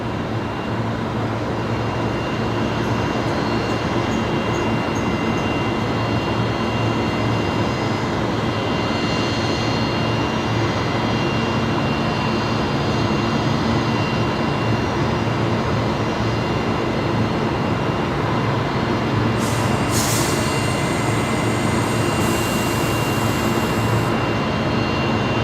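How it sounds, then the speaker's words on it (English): An Airbus A350-900 lands on the left runway at Brisbane Airport, its steady jet roar filling the whole stretch loud and continuous, with a brief higher hiss near the end. "The A350-9er going in runway left."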